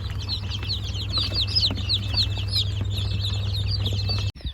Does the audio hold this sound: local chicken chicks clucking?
yes